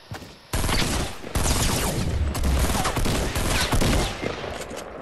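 Dense, continuous gunfire from the Fortnite video game, loud and sustained for several seconds with overlapping shots and impacts, kicking in abruptly after a short quiet opening.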